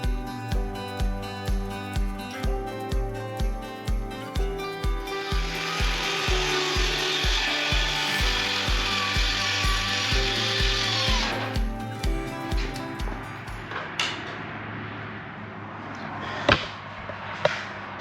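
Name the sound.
power saw cutting plywood against a board fence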